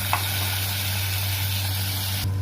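Tomatoes sizzle in a pan while being stir-fried for ginisang ampalaya, a steady hiss close by over a low constant hum, with a small clink near the start.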